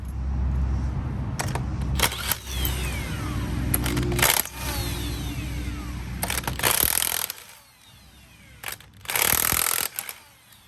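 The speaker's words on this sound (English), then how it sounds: "use our impact to get the 19mm lug nuts off." An impact wrench works the 19mm lug nuts off a Ford Focus wheel in short, loud broadband bursts separated by pauses and quieter clicks, close to the listener.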